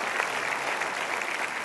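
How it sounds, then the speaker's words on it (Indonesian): Talk show studio audience applauding on stage, a steady wash of many hands clapping together at even strength for the whole stretch, with no voices over it. "Berikan tepuk tangan sama sahabat kalian."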